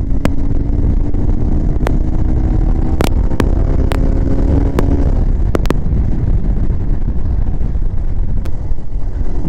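A Bajaj Pulsar 220 motorcycle cruising on a highway, with a steady, loud engine drone and heavy wind rush throughout, plus a few sharp clicks and faint tonal whines.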